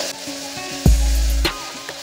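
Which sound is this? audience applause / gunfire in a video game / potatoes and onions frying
potatoes and onions frying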